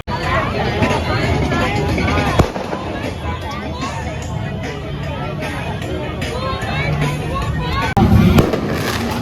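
Firecrackers thrown by protesters at a street demonstration where officers spray water: sharp bangs burst out over a loud, continuous crowd hubbub with voices talking nearby.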